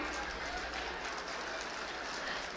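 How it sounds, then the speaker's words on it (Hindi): Crowd applause at a foundation-stone ceremony for a highway project in Rohtas, Bihar, steady and dense across the whole stretch, with a constant wash of many hands and a low rumble beneath. "जोरदार तालियां इनके लिए।"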